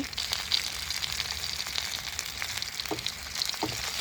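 Steady frying hiss and sizzle from a pan of Thai basil stir-fry with cheese meatballs and seasoning, with soft scraping and stirring sounds throughout. Close and continuous, no voices.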